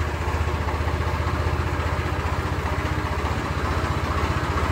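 A motorcycle engine idles steadily and close, a continuous low rhythmic putter with no one speaking.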